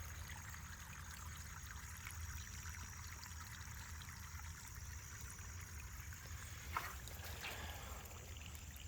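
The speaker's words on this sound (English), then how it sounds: "water coming down through here pretty good." Water runs steadily out of a farm drainage tile on a rainy day, a constant low rushing flow with one brief clink near the end.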